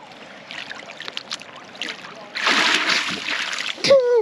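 Ocean water splashes as someone dunks under, a loud burst of splashing in the middle of a quieter wet background, followed by a brief voice.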